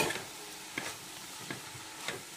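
A spoon scrapes through wild leafy vegetables in a pan in slow, regular strokes, about four in all, over a faint sizzle.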